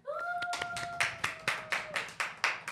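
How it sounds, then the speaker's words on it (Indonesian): A few people clap for Devo Muhammad, a podcast guest, in a small studio. About ten sharp, separate claps come at an uneven, slowing pace, with a short whistle-like tone near the start. "Boleh minta tepuk tangannya untuk Devo Muhammad"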